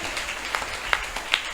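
A Tamil Christian congregation claps at a Sunday worship service. The applause is faint and scattered, with a few sharper individual claps rising above the soft room ambience.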